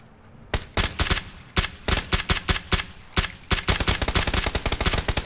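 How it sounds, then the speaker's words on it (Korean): Gunfire in PlayerUnknown's Battlegrounds on PC, a loud, close series of sharp shots, starting as scattered single bursts and quickening into rapid, dense automatic fire toward the end. "야 뒤쪽에 총소리 나는데?"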